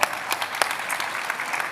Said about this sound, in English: Big round of applause for them as well.